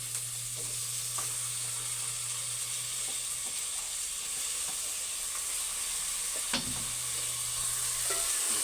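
Onion and tomatoes sauté in a pan for pork menudo, giving a constant bright sizzle with occasional quiet stirring taps and one louder clunk near the end.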